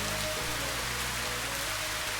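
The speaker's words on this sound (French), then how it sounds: "Il pleut aussi." Steady tropical rain falls on surfaces around a farm, a dense, even hiss that fills the whole moment without any voices.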